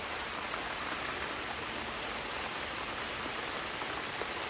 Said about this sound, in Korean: 이 빗방울 떨어지는 거 봐보세요